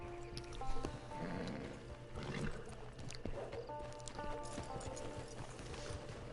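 Horse hooves clip-clop at a walk in the Red Dead Online video game, a soft, steady rhythm at moderate distance under game music and ambient camp background sounds.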